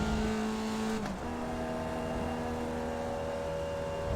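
Air-cooled 1960s Volkswagen Beetle engine in an iRacing Formula Vee car, held flat at steady high revs with a strained, bogging drone, a brief dip and lift around a second in, then sustained flat-out again; no talk.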